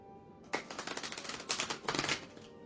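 Tarot cards being shuffled in two quick riffling bursts of dense, crisp flutters, close by, with a short pause between them and no talking.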